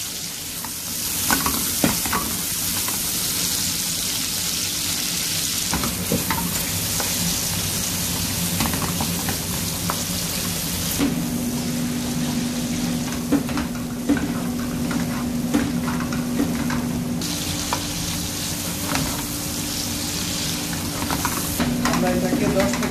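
Potatoes with salt frying in oil in a pan for a Bengali sea bream fish curry, a steady close sizzle broken by frequent scraping stirs, with a faint hum running under the later part.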